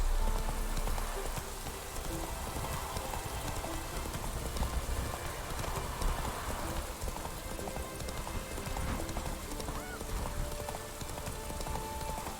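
In The Witcher 3, the horse Roach gallops with a continuous rapid clip-clop of hooves under a dense wash of rain and ambient game noise.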